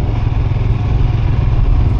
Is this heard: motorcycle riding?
yes